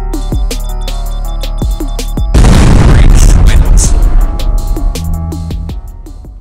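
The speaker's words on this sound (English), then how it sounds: "The first couple rounds of the AK shoot straight up, then it swings off to the right, back to the left, and then back to the right again." An AK-47 fires in the mobile shooter Critical Ops, with a loud blast of rapid rounds in the middle of the clip, set between sharp, evenly spaced clicks and beeps.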